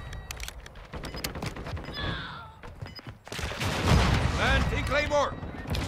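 Gunfire in Call of Duty Modern Warfare 2 comes as rapid crackling shots mixed with game sounds, rising into a louder, denser burst of fire, with a voice speaking over part of it.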